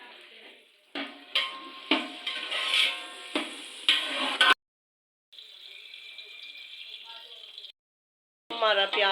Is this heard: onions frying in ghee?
yes